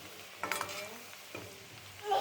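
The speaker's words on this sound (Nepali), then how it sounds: "लसुन अब हल्का रातो भएपछि सर लाएर मसला हालिन्छ।" Spices sizzle in hot oil with lightly browned garlic while a Nepali meat pickle (masu ko achar) is cooked, a short, moderately loud frying hiss with a few stirring scrapes.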